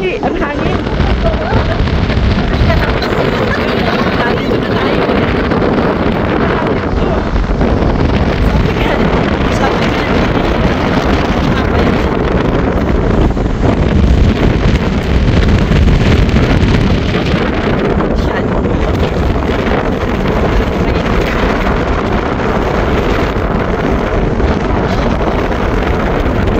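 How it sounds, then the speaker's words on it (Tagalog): Strong, roaring wind on Glacier 3000, a Swiss mountain glacier, buffets the microphone without letup, a loud continuous rush of gusts. "Ang hangin!"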